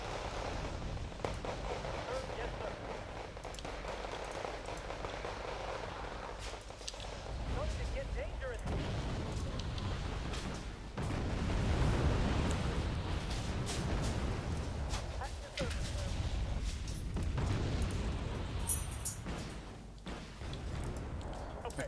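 Anti-aircraft fire and explosions in Wargame: Red Dragon, a continuous rumbling barrage of distant shots and blasts at moderate loudness, with talk running over it.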